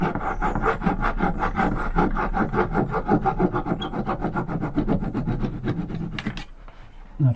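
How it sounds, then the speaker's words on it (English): A Japanese pull saw cuts through a splashback during a camper van sink fitting, giving a steady run of close, rhythmic rasping strokes that continue for several seconds before stopping. "I've got my Japanese pull saw here, and I'm just going to carefully see"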